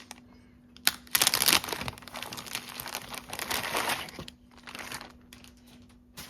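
Crisp crinkling and rustling of a small plastic bag holding sewing trims as it is handled and opened, close up, in uneven bursts with quieter pauses and no talking.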